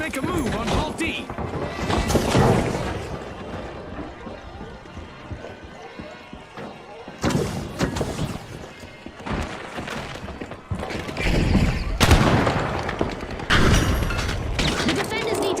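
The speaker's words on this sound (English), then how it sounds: "Frag grenade set! Flashbang out!" Frag grenade and flashbang blasts mixed with rapid gunfire in a tactical shooter match, loud bursts at about 7, 10 and 12 seconds over dense continuous battle noise, with a commentator's voice running through.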